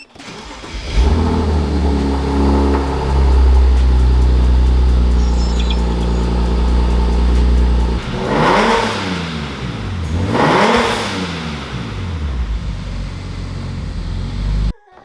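A BMW N54 engine fitted with a single top-mount turbo kit cranks and starts, then settles into a loud, steady idle before two sharp revs rise and fall near the end; no talking.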